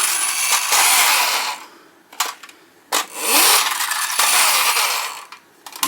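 A small electric motor in a tinplate toy station wagon with front-wheel drive whirs in loud, close bursts that stop and restart several times, with faint clicks and rattles between runs.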